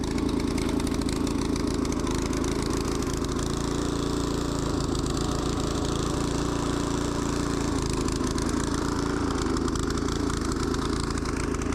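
Small gas rototiller engine fitted with a homemade counter-rotating trenching attachment runs steadily at a constant drone throughout, close and fairly loud, with no speech.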